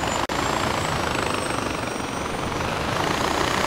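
A gyrocopter flying in the video game Far Cry 4 gives a steady, loud rotor and engine drone that holds broadband and unbroken throughout, with a brief dropout near the start and no talk over it.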